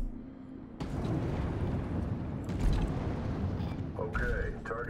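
Diving suit thrusting backwards in the underwater horror game Narcosis, a steady low rumbling whoosh of thrusters that starts abruptly and continues throughout, with a brief brighter hiss near the end.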